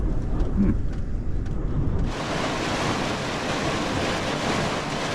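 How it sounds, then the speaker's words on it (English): Rain drumming on the roof of a VW T4 camper van parked in Exmoor National Park, a steady dense patter, loud and continuous after a short busier opening stretch, with no one speaking. "It started raining again."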